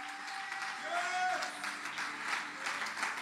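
A church congregation claps during a French-language service. The applause is soft and sustained, mixed with a sung or spoken voice and a brief tone, and sounds somewhat distant.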